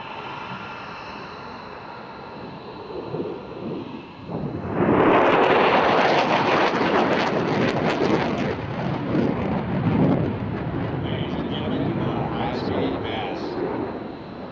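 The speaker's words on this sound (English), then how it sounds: "Attention to the right as the Super Hornet approaches, accelerating towards the speed of sound." An F/A-18F Super Hornet jet accelerates past at an air show. The engine roar swells quickly from a distant rumble into a loud, sustained, broadband blast that fills the rest of the clip, with a crowd audible underneath.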